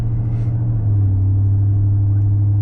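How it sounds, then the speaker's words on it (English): A V8 truck engine idles with a deep, steady low rumble, holding even throughout with no talking. "it's a big V8. I want to hear it"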